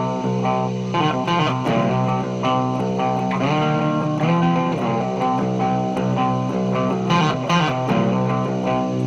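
Sustained electric guitar chords run through a rotovibe with chorus and tremolo, swirling and pulsing continuously for the whole stretch with thick harmonics and no talking.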